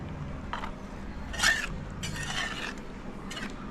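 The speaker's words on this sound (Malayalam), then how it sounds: "ഇത് നമ്മളിത് നന്നായിട്ടൊന്ന് ഇളക്കി കൊടുക്കാം" Chicken curry being stirred in a pot after mustard seed tempering is poured in, with a few short scraping and clinking strokes of a spoon against the vessel, close and fairly quiet.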